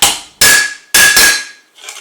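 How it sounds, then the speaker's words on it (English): An engineer's hammer whacks a metal costume prop three times, loud ringing metallic strikes with a sustained tone, followed by a softer fourth tap, with no talk. "take, let's say, this engineer's hammer. Again, flip it on the face"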